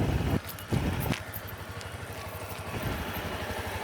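A beginner rides a motorcycle, its engine running low and steady with a rev surge near the start and brief throttle changes as gears shift, heard close and alone.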